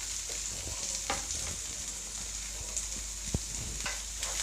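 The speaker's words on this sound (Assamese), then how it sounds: "এনেকৈ আমি প্ৰায় 1 মিনিটমান পিঁয়াজকেইটাও ভাজি ল'ম" Chopped onions fry in a pan over medium flame with a steady close sizzle, punctuated by occasional scraping clicks as a spoon stirs them; no voices.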